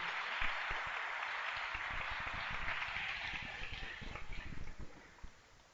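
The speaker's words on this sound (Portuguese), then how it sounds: "aplauda esse Deus maravilhoso." Applause from a church congregation during a sermon, a dense, even wash of many hands clapping at moderate distance, sustained for several seconds and slowly loosening toward the end.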